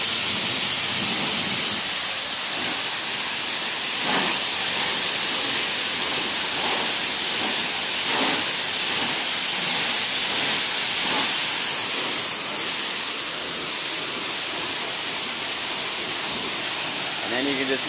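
A hose sprays water over a dirty car engine bay during a DIY engine cleaning, a steady broadband hiss that pulses as the stream moves, close and loud throughout.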